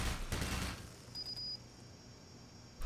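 Turret firing in Black Mesa, a short loud burst of rapid shots at the start, then a brief high electronic tone and a sharp hit at the end.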